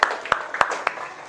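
Young children in a second-grade classroom clapping, a few sharp, fairly regular claps close by with a murmur of voices underneath.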